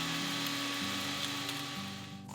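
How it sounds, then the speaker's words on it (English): A spice grinder whirs steadily through dry cinnamon, cumin seeds and turmeric for a Goan ambot tik curry paste, a loud continuous motor drone that shifts pitch slightly as the load changes. "I always like to grind the dry ingredients first because I find it helps to give a smooth curry"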